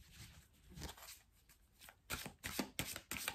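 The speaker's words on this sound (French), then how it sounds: "On va prendre une carte avec l'oracle « Dis-moi que tu m'aimes »" A deck of oracle cards shuffled by hand, close and crisp, with soft riffling at first, then several sharper bursts of cards slapping and sliding as cards are drawn, and no talking.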